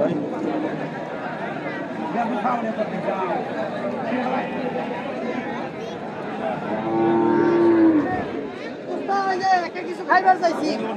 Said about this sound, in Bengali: সুন্দর একটি বাছুর গরু ডাকতে ডাকতে হাটের ভিতরের দিকে যাচ্ছে।